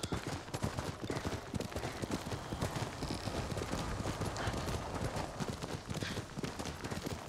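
Horse hooves clip-clop steadily and close in the video game Ghost of Tsushima, a dense rhythmic gallop running throughout with faint gunfire-like cracks in the mix.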